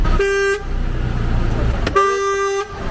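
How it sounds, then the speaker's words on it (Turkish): Two loud car horn honks close by, a short blast followed by a longer one, with traffic noise rumbling in between. "Kornaya bassana bir."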